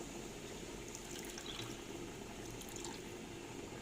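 Water is poured into a pan of rice on the stove, a faint steady trickle and splash that continues evenly and alone.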